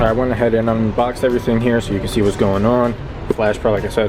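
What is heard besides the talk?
None of the usual background noises is heard.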